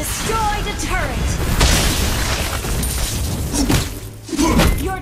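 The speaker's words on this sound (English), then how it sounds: "Your team destroyed a turret." Booming destruction blasts from a turret being destroyed in the mobile game Mobile Legends, heavy and sustained with a second burst near the end, mixed with game announcer voice and chatter.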